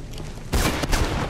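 Gunfire in the video game Mirror's Edge: a sudden burst of dense shots breaks in after a brief quiet stretch and keeps going as a sustained, loud volley with a few sharper cracks near the end.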